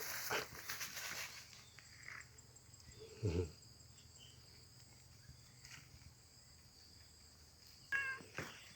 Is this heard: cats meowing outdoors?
yes